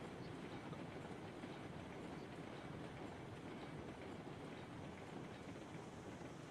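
Steady rumble of a train rolling on rails in a train simulator game, a dense continuous roar with faint clickety-clack, close and constant throughout with no talking.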